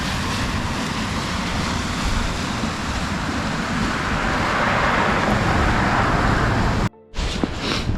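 Cars roll along a winter road near Surprise Corner in Banff, giving a steady, close roadway rumble and hiss that cuts out abruptly near the end, followed by a brief quieter stretch.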